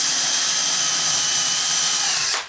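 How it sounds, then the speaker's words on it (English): A power drill spins a drill bit at high speed in a steady, loud whine that winds down abruptly at the end, with no voices over it. "That this drill bit will go right through this table"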